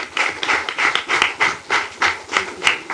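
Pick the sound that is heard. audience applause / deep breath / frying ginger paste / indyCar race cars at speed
audience applause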